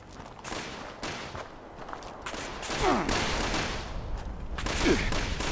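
Gunfire in the video game Fallout 76, a run of shots and bursts over continuous game ambience and movement, with short sweeping tones at moments, moderately loud throughout.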